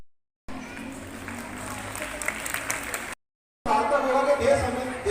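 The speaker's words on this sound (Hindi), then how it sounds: "बहुत जोरदार तालियां" Applause from an audience at a girls' government higher secondary school event in Biaora fills a few seconds at moderate level, then breaks off and returns with a voice speaking over it.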